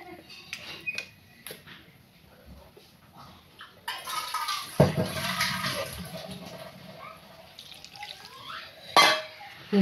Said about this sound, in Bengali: ঝোলের পানি দিয়ে দিলাম